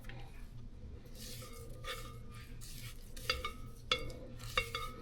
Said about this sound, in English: your spatula and you just mix that in